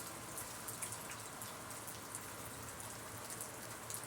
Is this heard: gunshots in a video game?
no